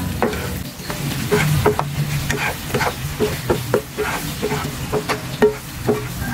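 Pork binagoongan with eggplant and chopped long chili being stirred in a pan, a spoon scraping and clacking in irregular strokes over a steady sizzle, close and fairly loud with no talking.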